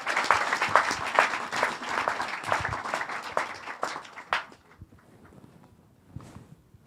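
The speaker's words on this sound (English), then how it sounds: "So please, maybe a round of applause for the speakers." An audience applauds the speakers at a talk, a dense round of clapping that tapers off and fades to near silence, with a few last scattered claps.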